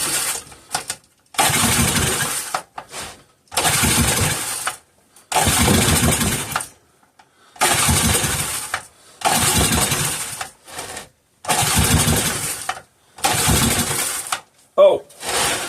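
A 3.5 hp Briggs and Stratton small engine, set to run with the choke on, sputters to life in repeated loud bursts of running that cut out between pulls, roughly eight attempts in a row up close.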